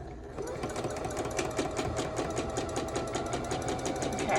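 A sewing machine stitches a pink and red quilt block for a pressed flowers block-of-the-month pattern, its needle hammering in a fast, even rhythm close by, starting after a brief pause and running steadily to the end.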